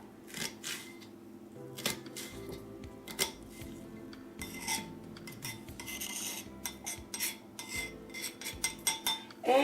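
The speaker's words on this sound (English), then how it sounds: "so I'm just going to use some white onion instead. So I'm just going to chop that." A knife chops white onion on a cutting board in a home kitchen, giving a quick series of sharp, close taps and knocks with short pauses between bursts, fairly loud and heard alone.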